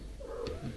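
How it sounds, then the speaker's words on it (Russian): A cat rubbing around a person's legs, with a brief close purr and a soft mew-like murmur in a quiet room. "У нас кошка Алиска трется вокруг меня"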